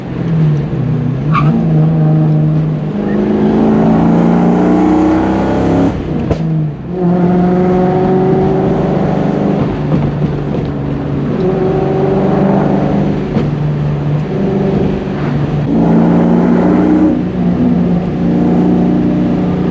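Ford Mustang SN95 Cobra exhaust heard from inside the car while driving: a loud, steady engine drone that rises in pitch through several revving pulls, with a sharp gear-shift break partway through.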